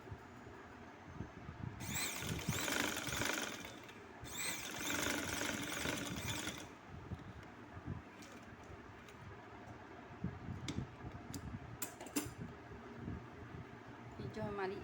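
A sewing machine runs in bursts, stitching a skirt along the presser foot slowly and carefully, with loud whirring runs separated by pauses and a voice talking throughout.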